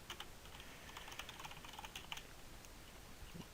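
Typing on a computer keyboard while writing C++ code, a quick run of light, fairly faint key clicks in uneven bursts with no talking.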